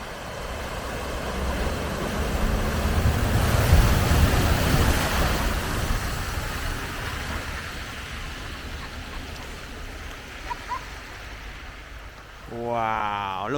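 Floodwater rushing back across the flooded Rufford Ford, a broad loud wash of surging water that peaks early and then eases to a steady flow, with a vehicle passing near the end.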